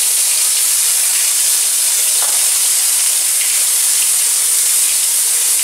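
Onion paste sizzles and fries loudly in a hot pan, a dense continuous hiss with faint crackles throughout, close and unbroken, with no one speaking.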